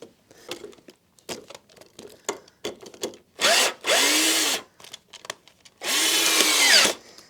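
A power drill drives a screw into a pilot hole in a model railroad backdrop, heard as short bursts and two longer whirring runs whose pitch rises and falls, separated by small clicks and handling noises.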